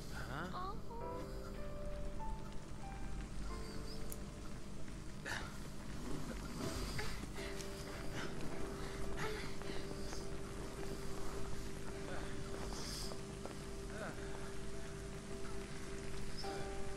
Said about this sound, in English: here it pours. Then it rains some more.